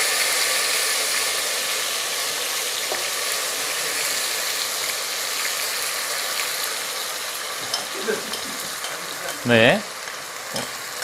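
Ground coconut paste fries in hot oil with a loud, continuous crackling sizzle up close, scattered spatters and brief clattering near the end as it is handled.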